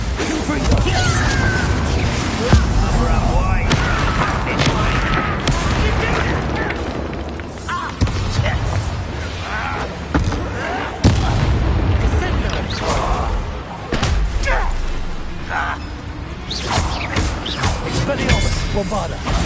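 Bombarda and Confringo spell blasts in Hogwarts Legacy on PS4, a loud dense battle of repeated booming explosions and magical bursts layered over game music and effects, with characters shouting spell names throughout.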